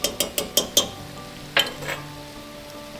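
Garlic and thyme hit a hot pan with bacon and vegetables: a few quick metallic clinks and taps of a utensil, then a brief sizzle and scrape, close and fairly loud.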